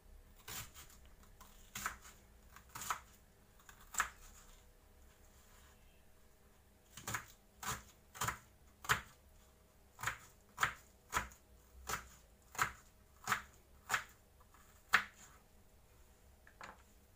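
An onion being chopped with a knife on a board: a series of sharp, close, evenly spaced cuts, with a short pause in the middle before a steady run of about a dozen more chops.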